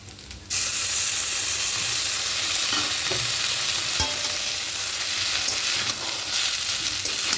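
Egg chow mein with sauce and scrambled egg is stirred and fried in a pan, a loud, steady close sizzle that starts abruptly, with occasional scrapes and knocks of the utensil against the pan.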